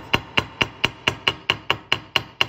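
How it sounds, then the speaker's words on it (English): Ten even, crisp metallic taps of a hammer on the tail of a wire-wrapped component in a quick steady rhythm, each ringing briefly, close up with nothing else heard. "I hammer that tail first"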